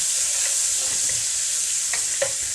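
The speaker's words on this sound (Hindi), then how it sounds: "आधा टीस्पून जो है वो मैंने अदरक लहसुन का पेस्ट लिया वो ऐड करता हूँ।" Ginger garlic paste fries with cumin in a pan, a steady hissing sizzle with a few light scrapes and taps of stirring near the end, close and moderate.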